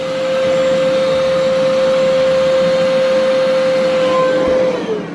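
A household vacuum cleaner runs steadily nearby with a loud, constant whine and roar that winds down slightly at the very end.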